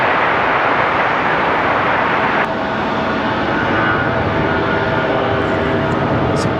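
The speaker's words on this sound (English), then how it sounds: "Delta 1407 off to Detroit, Michigan. The A320." A Delta Airbus A320 airliner departs Raleigh-Durham for Detroit with a loud, steady broadband jet roar that holds throughout, easing slightly in tone partway through.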